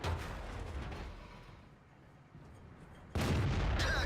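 A tank cannon fires in World of Tanks, a heavy boom that breaks in sharply near the end after a low rumble of engine and battle noise.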